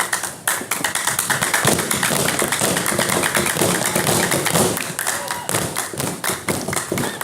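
An audience claps along with a didong performance at an artists' camp, a steady, dense rhythm of hand claps with voices mixed in throughout.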